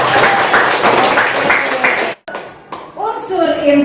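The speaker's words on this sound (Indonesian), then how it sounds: "Tepuk tangan." Students in a classroom clap together in a quick, fairly even burst of applause lasting about two seconds, followed by a teacher's voice.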